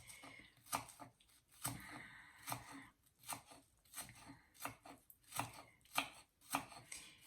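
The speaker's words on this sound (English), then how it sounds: "I'm cutting the onion into small pieces" An onion cut into small pieces with a knife on a board for guacamole, giving a run of crisp, fairly quiet chopping strokes in an uneven rhythm with short pauses between bursts.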